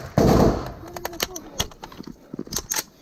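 Gunfire in combat in Ukraine: a loud close burst opens, followed by scattered sharp cracks and shots at varying distances, with shouting voices between them.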